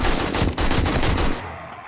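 AK rifle in the video game 7 Days to Die firing a rapid automatic burst of loud, close gunshots that cuts off abruptly near the end.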